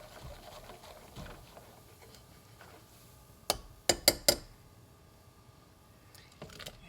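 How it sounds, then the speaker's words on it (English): A spoon stirs chopped beef through a pot of spicy Dr. Pepper jerky marinade, giving four quick, sharp clinks close together midway through a quiet background, with one softer knock near the end. "Give this a quick mix."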